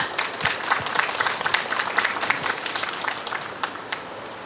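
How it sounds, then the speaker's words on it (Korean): An outdoor memorial gathering for the Itaewon disaster anniversary breaks into steady audience applause, dense continuous clapping heard at moderate distance with a few sharper individual claps standing out. "두 분 큰 박수로 모시겠습니다."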